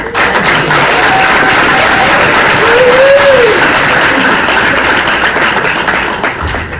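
An audience at a county supervisors' meeting on inter-community relations gives a moderator a loud, sustained round of applause. The dense clapping fills the whole stretch at even strength, with a brief whistle-like tone partway through.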